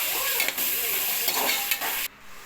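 Onions with fresh mint and coriander sautéing in a pan for vegetable biryani, a steady close sizzle with scraping stirs that stops abruptly near the end.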